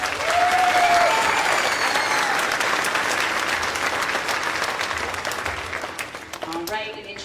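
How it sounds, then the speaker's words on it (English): Loud applause from an audience at an elementary school junior spring concert, dense and sustained before tapering off near the end, where a few cheers and a voice surface. "So please give them and yourselves a big round of applause."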